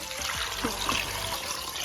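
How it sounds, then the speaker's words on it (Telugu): Water poured into a cooking pot for a Hyderabadi-style leg (paya) soup, a soft, continuous trickle heard faintly and close by. "ఇట్లా నీళ్ళు పోసుకోవాలి ఎక్కువ ఎక్కువ నీళ్ళు పోయాలి"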